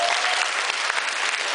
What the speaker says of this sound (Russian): Давайте под аплодисменты, пожалуйста.